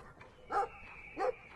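A dog in the video game Brothers gives two short barks about half a second apart, moderately loud over a quiet game background, with no talking.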